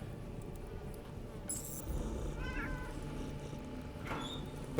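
A captured laser cat meows in the video game Underrail, a few short, faint meows standing out from a quiet game backdrop with light clinks.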